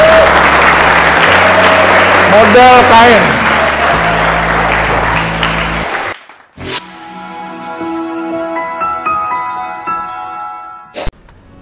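Orphaned children at an Islamic boarding school clap together for a few seconds under loud, tuneful music. Then the clapping drops away and someone speaks briefly over quieter sounds.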